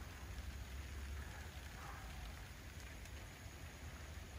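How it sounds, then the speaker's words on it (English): Steady light rain patters on surfaces in Bali, Indonesia, a soft continuous hiss with no voices. "And it's starting to rain"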